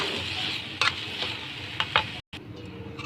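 Shrimp with curry powder and vegetables sizzles in a pan while being stirred, the steady frying hiss broken by a few scraping strokes and one brief dropout.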